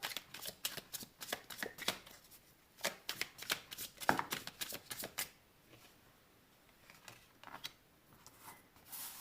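Tarot cards are shuffled by hand in a quiet room, with rapid close riffling bursts and short pauses between them, alone and without talk.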